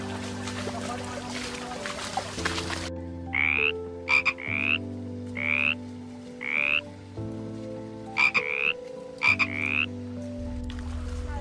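A frog croaking close by in dense forest on the Andharban trek, a series of loud, repeated rasping croaks in short bursts over a steady low hum, with no talking.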